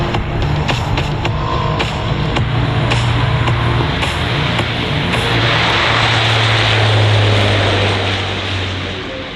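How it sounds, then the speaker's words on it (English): A C-130J Hercules turboprop takes off at an air show, its engines producing a loud, sustained droning roar with a steady propeller hum that swells toward the end and then begins to fade. "as the Hercules takes off"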